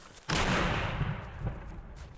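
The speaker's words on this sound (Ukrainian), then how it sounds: "І ось розрахунок міномету." A single heavy boom from a firing 82 mm mortar bursts out and rolls into a long, rumbling echo that slowly fades across the open air.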